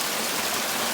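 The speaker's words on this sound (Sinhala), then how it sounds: "guys වහිනවා guys" Rain falls in a continuous, even wash of hissing drops close by, unbroken across the moment with no talking.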